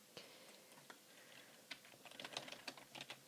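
Search query typed on a computer keyboard: quick, uneven key taps close by, sparse at first and then denser, quiet and with no talking.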